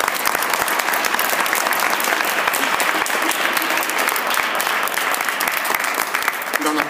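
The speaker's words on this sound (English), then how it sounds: "I want to hear some loud applause for these students that took time out." A university audience at a panel discussion applauds student panelists, steady dense clapping sustained for about seven seconds, close and fairly loud, with a little crowd murmur underneath.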